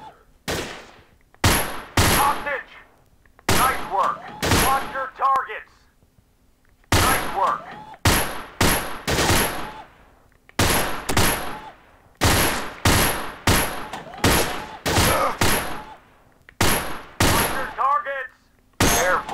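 Repeated bursts of Allied SMG 26-40 submachine gun fire in the VR shooting game Gun Club VR, short rapid volleys separated by brief pauses, with metallic clinks and clatter between strings.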